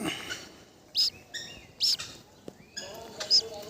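Shrill, high cheeps of a white-breasted waterhen chick come in three short bursts, close and fairly loud, with faint background murmur between calls.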